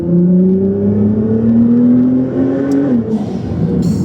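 A Nissan GT-R R35 sports car engine revs up close, its pitch climbing steadily as it accelerates, then it briefly eases off and shifts.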